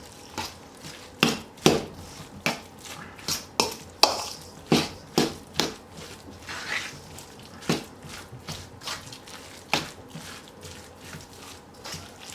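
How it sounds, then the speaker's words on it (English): A fork mixes meatball ingredients with oats in a bowl, giving irregular close scraping and clinking strokes with wet squishing between them and no talk over it. "Now what we need to do is just mix this up. So I'm going to start with my fork first."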